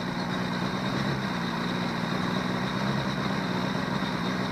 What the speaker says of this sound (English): I'm connecting these two, but it's not killing the motor.